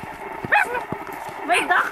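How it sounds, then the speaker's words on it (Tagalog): Several dogs on a group outing bark and yip in quick, close bursts, mixed with people talking over them. "Ay, dami pa aso!"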